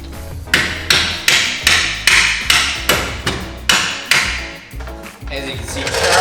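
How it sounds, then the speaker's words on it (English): A hammer pounds an 18mm bolt out of the bottom of a rear shock on an Audi RS3. About ten sharp metallic blows land in a steady rhythm, close and loud, with ringing between strikes. "Charlie just went ahead and pounded that bolt through of the bottom shock"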